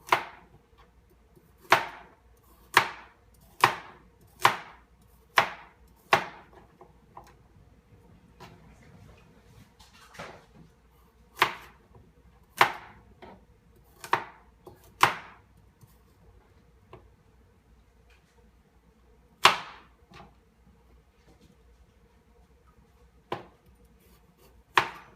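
Carrots and celery for bone broth being chopped on a board: sharp, spaced knife strikes, a quick run of about eight, then scattered single chops with pauses, clear against a quiet background.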